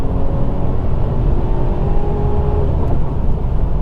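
A Mercedes-Benz E 350 4Matic AMG Line sedan of nearly 300 horsepower accelerates at full throttle, a loud, steady engine and road roar from inside the cabin with no talking.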